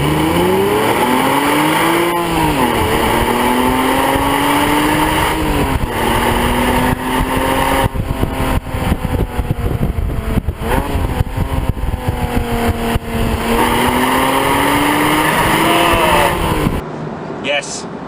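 A 2009 Porsche Boxster 3.4S flat-six accelerating hard in sport mode, revs climbing through several gears with brief dips at each shift, loud in-cabin engine note under someone talking.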